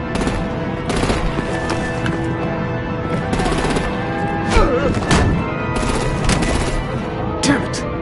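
Rapid gunfire and heavy weapon bursts from artillery in a Batman video game battle, crackling in repeated volleys with booming hits over a busy, continuous action soundscape.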